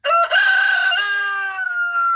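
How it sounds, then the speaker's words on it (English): A rooster crows once loudly and close by, a single long cock-a-doodle-doo that rises and then trails off, with no talking. "our chicken, our rooster's going nuts right there"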